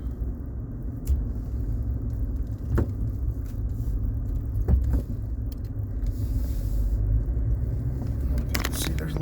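Car cruising along a road descending into New River Gorge, with a steady low engine and road rumble throughout and a few brief knocks and rattles from inside the cabin.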